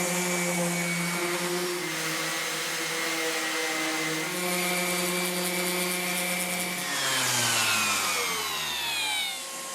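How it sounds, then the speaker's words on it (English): A power sander runs steadily on a wooden shop table top, a loud whining drone whose pitch wavers and then sweeps down near the end as the motor winds off. "I've got this top sanded down to where I like it."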